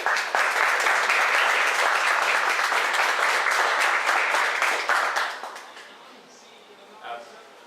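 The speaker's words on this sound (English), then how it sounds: "So how about a round of applause for these two individuals?" An audience at a school recognition event for students of the month applauds steadily for about five seconds, then the clapping fades out, with a faint voice afterward.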